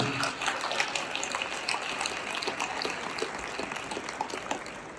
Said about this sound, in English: let's give our staff again and President Malcolm a big round of applause